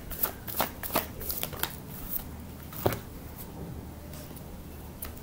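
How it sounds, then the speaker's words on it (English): Tarot cards being shuffled by hand, a run of quick papery riffles and flicks at close range with short pauses between bursts, then quieter intermittent rustling. "I want one more card for this."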